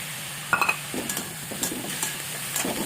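Cabbage and soaked bhog rice sauté in a pan under a continuous sizzle, broken by repeated scraping stirs and light metallic clinks of a spatula against the pan.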